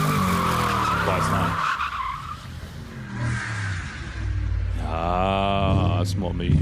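An Audi RS4 B7 with a 4.2 V8 and manual gearbox skids in fresh snow, its engine revving loudly with rising and falling pitch while people talk and react over it.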